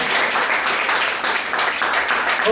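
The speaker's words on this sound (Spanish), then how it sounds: "Dale un fuerte aplauso al Señor." A dense wash of applause from a church congregation, loud and sustained from start to finish, with a hint of voices mixed in.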